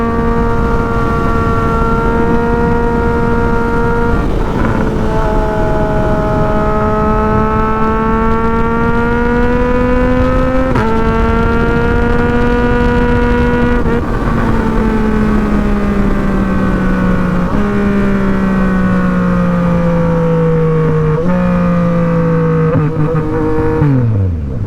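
A Yamaha MT-09 motorcycle is ridden on the road, its engine loud and close with rising and falling revs through repeated gear changes and accelerations, a continuous whining drone without talk.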